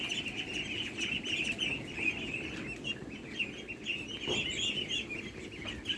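A flock of young ducklings on a farm peeps and chirps continuously in a high, busy chorus, with soft scuffling of movement and a steady rustle of background noise throughout.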